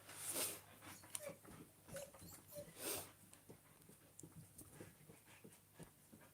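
A small dog pants in quick, faint breaths and whimpers with a few short high whines. The sounds are close but quiet, with soft rustling noises in the room.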